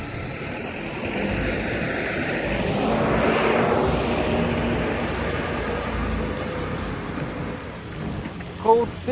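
A small Babyhawk R FPV drone punches out in cold weather, its motors rising to a high-pitched whine that swells as it passes closest and then fades back to a steady hum.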